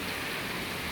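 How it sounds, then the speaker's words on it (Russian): A heavy subtropical downpour in the Maldives roars as a dense, even wash of rain hitting surfaces, loud and unbroken throughout with no voices. "Вот такой просто невероятный ливень субтропический на Мальдивах."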